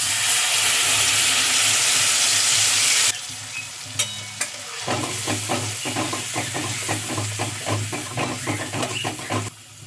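Tomato paste goes into red chili powder and spices frying in oil over a low gas flame for shahi paneer: a loud, steady sizzle drops suddenly, then a softer, crackling fry continues with rhythmic stirring scrapes.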